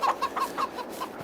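Farm chickens in Farming Simulator 22 give a run of about five clucks at a steady, even rhythm, close and clear, with no voices over them.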